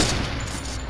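A brief burst of rapid gunfire in Fortnite, loud and dense, running straight through the whole moment.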